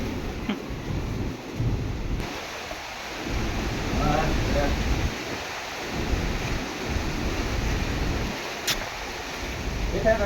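Steady broadband rain hiss with low rumbling gusts and muffled thumps, a voice murmuring faintly underneath.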